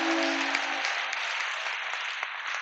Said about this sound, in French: Est-ce que tu peux acclamer les mamans ce matin?